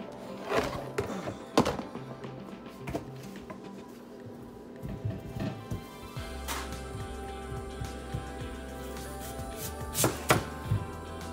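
Knife chopping through a raw yam for frying in an African village kitchen, a series of irregular close thunks and taps spread across the stretch, with some scraping between cuts.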